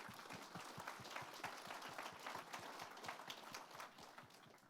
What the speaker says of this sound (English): Let's give these both gentlemen a warm round of applause.